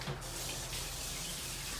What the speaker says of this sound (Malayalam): ഇതിലേക്ക് ഇനി ലേശം വെള്ളം ഒഴിക്കാം